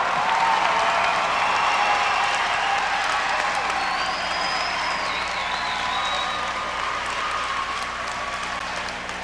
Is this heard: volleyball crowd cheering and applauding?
yes